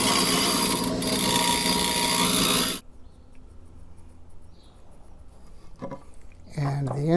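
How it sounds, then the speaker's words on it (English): A bench grinder roars loudly and steadily for about three seconds while grinding off a flared-out metal part of a couch leg bracket, then cuts off, leaving quiet handling noises and a voice. "I'm going to go to the grinder, and I'm going to get rid of this flared out part"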